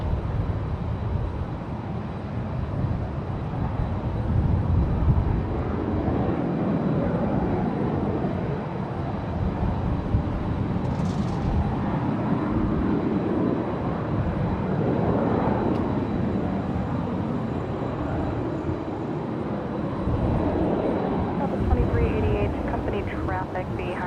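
Embraer Phenom business jet doing an engine run at San Jose International Airport, a steady roaring jet rumble heard from a distance with a person talking over it throughout.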